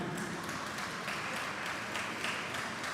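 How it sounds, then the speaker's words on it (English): Audience at a moot court closing ceremony applauding, a steady, continuous crowd of clapping hands that holds at an even level throughout without fading. "let's give a round of applause to our technical secretary"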